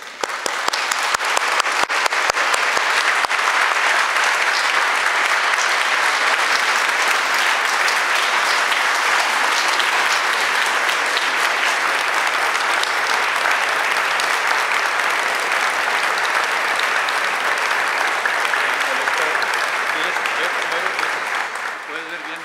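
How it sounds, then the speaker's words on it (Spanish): A university audience gives a long, sustained round of applause welcoming writer Elena Poniatowska, dense and loud, holding steady throughout before easing slightly at the end. "pido que le demos un aplauso a doña Elena Poniatowska"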